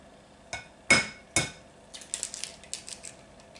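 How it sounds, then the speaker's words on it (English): Eggs are cracked against a bowl in a home kitchen, with three sharp knocks followed by a quick series of lighter clinks and taps, close and fairly quiet, with no talking. "you want to crack some eggs"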